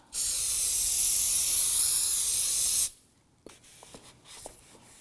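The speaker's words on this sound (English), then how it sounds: "You want to use some solvent to go ahead and clean off the oil off of the braking surface." A steady, loud aerosol solvent spray hisses for almost three seconds onto a Volvo XC90 front brake rotor, then cuts off, leaving quiet handling noises and a few faint clicks.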